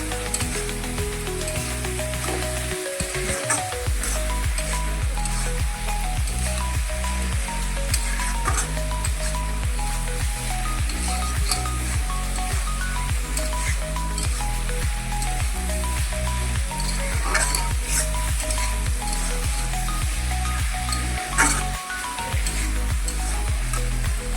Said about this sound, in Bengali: এটাকে একটু ভেজে নিতে হবে